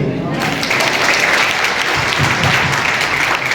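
Audience applause after a speech at a charity event donating free wheelchairs to disabled people, steady dense clapping throughout, loud and close with no pauses.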